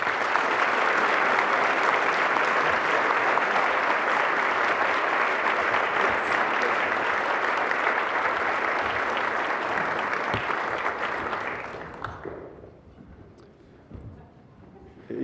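An audience welcomes Dr. David Naylor, president of the University of Toronto, with a long, dense roll of applause that holds steady for about twelve seconds before tapering off into near quiet.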